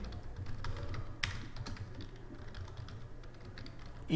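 Rapid, close keyboard typing clatters steadily as a student name is entered into an online registration form, with no voices.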